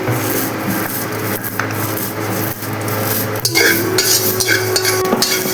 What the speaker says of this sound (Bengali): মেথিটা এখন ভেজে নেব আমি হালকা।